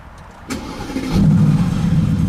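A starter whirs briefly, then the V8 of a Mercedes-AMG GT S catches and settles into a loud, deep rumbling idle close by.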